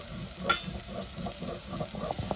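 Two medium tomatoes fry in oil with black cumin seeds, making a soft, close sizzle with light bubbling and a few stirring knocks.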